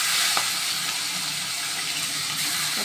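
Two garlic heads frying in hot oil in a wok, a constant loud hissing sizzle that holds steady from start to finish with only faint ticks of spitting oil.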